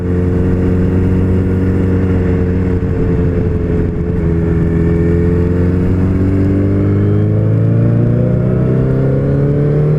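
Yamaha FZ8N motorcycle accelerating hard in second gear, a loud, steady engine note whose harmonics climb smoothly in pitch over ten seconds of continuous, close-up riding.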